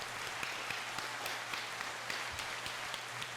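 Scattered hand claps, a few light claps spread over a few seconds amid low background noise, soft and fairly distant.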